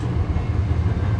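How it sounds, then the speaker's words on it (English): A Valley Metro light rail train runs toward downtown Phoenix with a steady low rumble and a continuous mechanical drone, close and fairly loud, with no talking. "This is the train to downtown Phoenix Hub at Washington Street."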